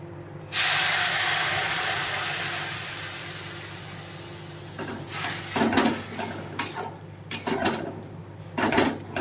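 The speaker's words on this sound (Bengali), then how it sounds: "এবারে এই দুধটা এর মধ্যে ঢেলে দেবো" Thick, creamy boiled milk pours from a vessel into a cooking pot with a sudden loud rushing hiss that fades gradually, then gives way to clattering, scraping pot sounds close by.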